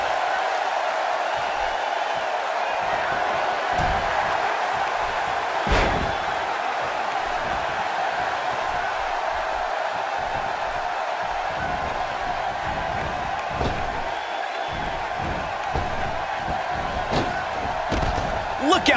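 A clothesline and slam in a wrestling video game, with a heavy impact thud near the start standing out briefly over steady arena crowd noise and commentary voices.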